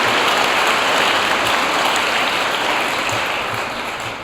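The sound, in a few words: audience applause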